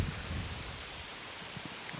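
Steady wind buffeting a microphone outdoors at a swamp while fishing for crucian carp, a broad low rumble with gusty rustling, fairly loud and constant with no voices.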